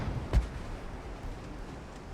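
A single heavy boom of naval gunfire from a warship in Ultimate Admiral: Dreadnoughts, an 1890-era Italian fleet at war with China, thuds once early and fades into a low rumbling background.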